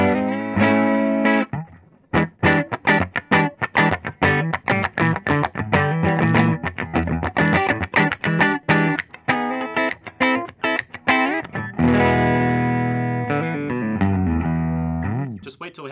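A 1985 Fender Performer electric guitar on its neck pickup plays distorted riffs, with choppy staccato chords and quick runs giving way to sustained ringing notes, loud and close with no talk.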